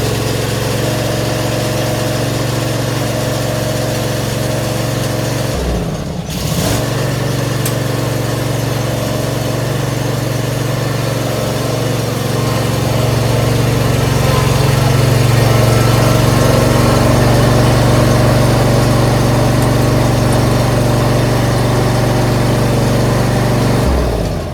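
Toro Recycler Personal Pace self-propelled lawn mower engine running steadily up close, a loud continuous drone with one brief dip partway through, no talk.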